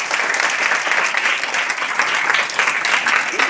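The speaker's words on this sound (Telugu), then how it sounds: "ఒకసారి గట్టిగా క్లాప్స్ ఇవ్వండి" Loud, sustained applause from a crowd of students at a school event for a free eye camp held by a walkers club, with dense, even clapping throughout and no pauses.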